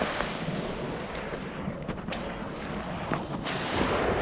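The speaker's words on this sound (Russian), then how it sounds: "Ой, волны." Sea waves wash and rumble steadily, heard outdoors under heavy wind buffeting on the microphone, with a few louder surges and no talk.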